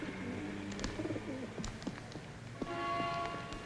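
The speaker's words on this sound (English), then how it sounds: "Detective Halloran, did you ever band a homing pigeon?" Homing pigeons cooing in a loft, soft repeated low coos with a few wing flutters and footsteps, heard close over a busy background with a voice briefly murmuring.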